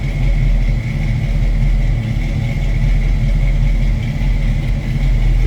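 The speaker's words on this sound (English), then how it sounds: "Good sounding truck. Nice little rumble." Engine of a 1972 Chevrolet pickup truck idling steadily with a deep, continuous low rumble, close and loud, with no voices over it.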